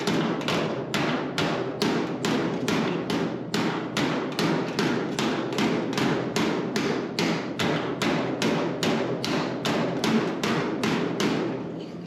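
A hammer taps a sheet metal flange against a toe dolly around a wheel tub. About two dozen evenly spaced, close metallic taps ring out in a steady rhythm with no speech.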